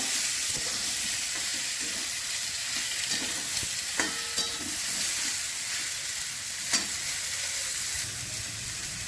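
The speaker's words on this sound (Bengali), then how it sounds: "এবার আমি ফুলকপিগুলো দিয়ে দিচ্ছি, দিয়ে একসঙ্গে একটু কষিয়ে নেব।" Cauliflower florets stir-fried in a pan for an egg curry with potato, a loud steady sizzle and hiss throughout, broken by occasional soft clinks and scrapes of stirring.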